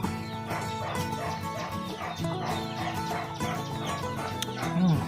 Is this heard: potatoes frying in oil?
no